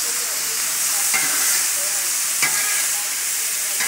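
Ground beef frying in a pan, a steady close sizzle with occasional louder scrapes as the meat is stirred and mixed, alone without talk.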